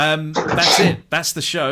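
A single sneeze bursts out in the middle of talk on a live synthesizer show, with voices speaking right around it.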